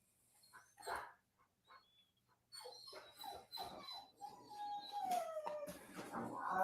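A dog whimpering and whining during bite training, with faint growls and howl-like cries rising in pitch, fairly quiet, with brief sounds in between.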